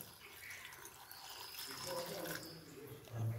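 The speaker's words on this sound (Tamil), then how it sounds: "அந்த கேரட்டு வேகிற அளவுக்கு நீங்கள் இதில் தண்ணி ஊற்றினா போதும்" Water is poured into a pan of sliced carrots for cooking, a faint, continuous trickle and splash heard close by in a quiet kitchen.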